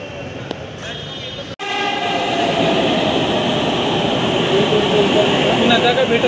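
Pune Metro train arriving at a station platform, a steady rumbling roar with a brief dropout partway through, and people talking faintly over it.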